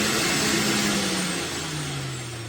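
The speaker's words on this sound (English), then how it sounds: "I just wanted to turn it on so you could see what it sounds like" A juicer-style centrifugal fruit and vegetable extractor running empty gives a loud, steady motor whine with a hissing, whooshing roar and slightly falling pitch, heard close and alone.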